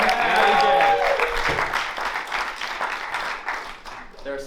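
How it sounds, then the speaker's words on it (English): A small open-mic crowd claps warmly for the host, dense applause starting loud and gradually thinning out, with a voice briefly audible near the end. "Let's give another warm round of applause for EJ for being such a great host tonight."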